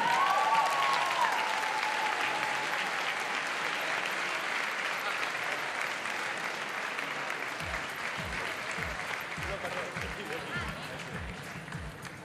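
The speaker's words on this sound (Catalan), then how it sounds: "Moltes gràcies i un fort aplaudiment." Sustained audience applause fills a fashion design school awards ceremony in Barcelona, a dense, steady wash of clapping that holds loud throughout, with a few sharper individual claps near the end.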